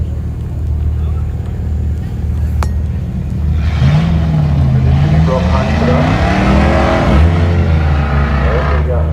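Morris Minor race car engine at a race meeting, a loud close rumbling idle that rises into revving with swooping pitch changes, mixed with crowd or commentary voices in the background.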